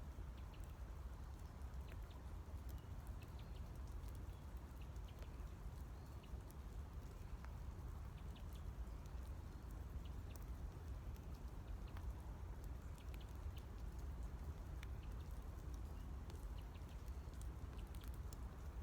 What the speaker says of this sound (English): inviting in the sounds of the rain, of drops falling